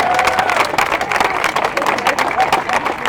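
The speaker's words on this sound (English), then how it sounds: "So give yourselves a round of applause" Crowd at a Justice for Michael Brown rally in Washington, DC, breaking into dense applause and cheering, loud and steady for a few seconds with voices and shouts mixed through the clapping.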